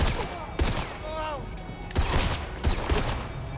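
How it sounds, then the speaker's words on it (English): Enemy gunfire in the video game 007 First Light breaks out in several sharp, loud bursts of shots, with a voice speaking between the volleys. "Who's shooting at me?"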